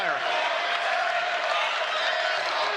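A basketball arena crowd roars steadily after a half-court lob, a dense wall of cheering and whoops that holds loud and unbroken throughout.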